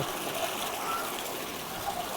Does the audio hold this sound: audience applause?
no